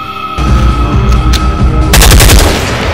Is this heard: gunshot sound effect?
yes